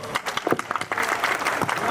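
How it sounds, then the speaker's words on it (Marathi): A crowd at a lucky draw event claps for a prize winner, dense applause building quickly to a full steady patter close by, with a voice briefly audible. "सर्वांनी टाळ्या वाजवायचे"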